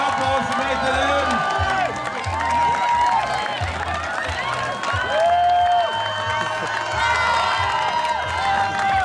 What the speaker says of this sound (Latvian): Aplausi meitenēm!